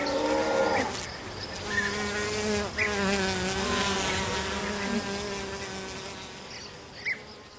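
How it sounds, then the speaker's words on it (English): Bees buzzing outdoors in the countryside, a wavering drone close by that rises and dips over several seconds, with faint rustling behind it. "the humming of the bees"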